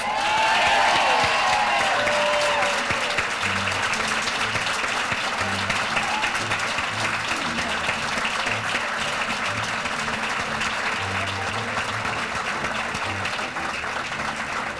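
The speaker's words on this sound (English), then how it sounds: "let's all give her a round of applause" Audience applause at an awards ceremony, a dense continuous roar of clapping with some crowd noise, loud and sustained at a fairly even level for the whole stretch.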